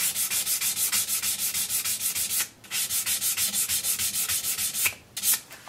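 Guitar frets being sanded with 800 grit sandpaper during fret levelling: steady, rhythmic back-and-forth rubbing strokes, close and fairly quiet, with two brief pauses in the run.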